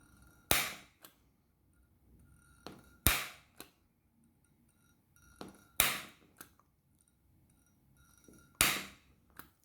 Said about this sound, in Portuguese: com o furador de papel eu consigo furar